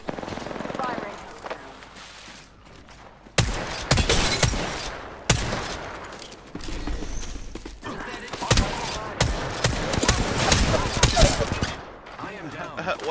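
Gunfire in the video game Apex Legends: repeated loud bursts of rapid shots at close range, some long and sustained, mixed with game noise and a speaking voice throughout.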